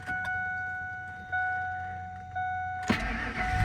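A 2000 Ford F-150 Lariat with the 5.4L V8 engine starts up after a few faint key clicks and chimes, the starter cranking briefly before the engine catches and settles into a steady idle.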